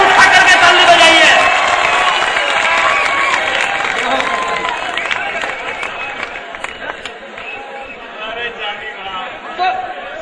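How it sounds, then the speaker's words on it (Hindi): An audience at a 2017 kavi sammelan poetry recital claps loudly and steadily, with crowd chatter and some cheering. The applause is strongest at the start and gradually thins out. "एक बार दोनों हाथ को उठा करके ताली बजाइए।"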